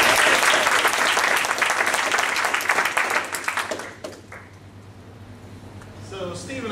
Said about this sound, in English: So let's hear it for Theron Muller